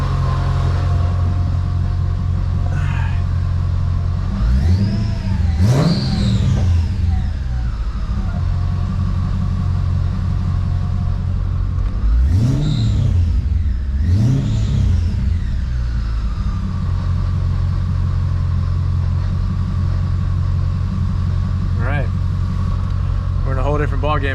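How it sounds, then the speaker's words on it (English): A Mercedes CLK55 AMG with the M113K supercharged V8, fitted with a fixed upper pulley and Weistec 180mm pulley, idles steadily and then revs up three times with loud rising and falling blips and supercharger whine. "You're gonna hold it from here, rev it."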